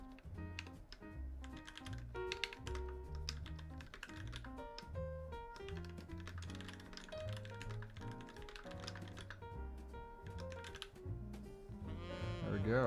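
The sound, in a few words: typing on a mechanical keyboard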